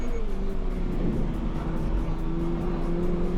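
A Toyota GR86 lapping a race circuit, its engine holding a steady drone close and loud from inside the car, with no change in pitch and no talk.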